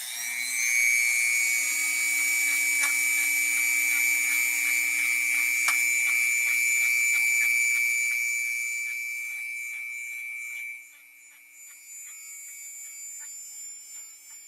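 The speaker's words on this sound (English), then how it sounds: "we're going to use a Dremel tool with a wire brush to polish it a little bit" A Dremel tool with a wire brush polishes a part from a New Home Model 444 sewing machine, giving a high steady whine. It runs loud and close, then drops in pitch and level near the end.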